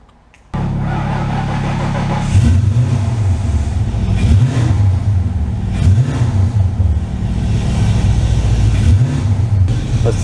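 A Foxbody Mustang's engine roars loudly and close, starting abruptly and then rising and falling through several repeated revs while it is readied for drifting, with no speech over it.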